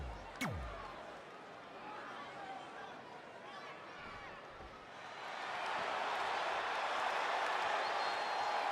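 A crowd in the WWE 2K20 wrestling game cheers, with a sharp slam at the start, then swells louder and more excited into a sustained roar over the last few seconds, while a commentator talks over it.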